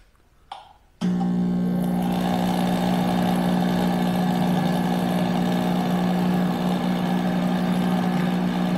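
A Mr. Heater kerosene radiant shop heater fires up after a click, settling into a loud, steady roaring hum that continues unbroken in a garage.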